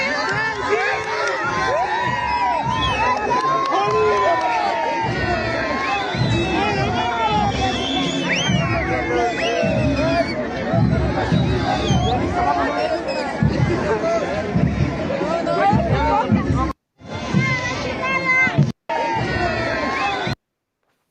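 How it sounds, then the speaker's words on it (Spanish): A large crowd in El Alto boos and whistles at Rodrigo Paz, a loud, sustained roar of jeers, shrill whistles and shouting voices that carries on for many seconds before cutting off abruptly. "¿Cómo interpretas ese abucheo, esa rechifla?"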